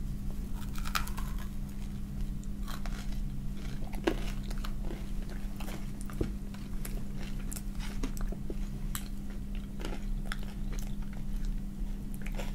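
Crunchy karinto, a caramelized Japanese fried dough snack, bitten and chewed close to the ear, with sharp repeated crunches over a low steady background hum.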